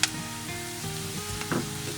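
Onion and garlic fry in a pan until deep brown, a steady close sizzle with brief bursts of crackle over two seconds.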